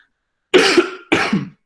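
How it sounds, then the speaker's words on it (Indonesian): Two close, forceful coughs, near and loud, separated by a short pause, with no talking. "saya agak batuk-batuk."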